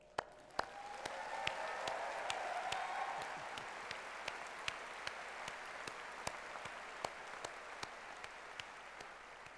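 Audience applause at a university graduation ceremony, a steady wash of clapping from a large seated crowd that holds for the whole stretch with sharper individual claps standing out near the front.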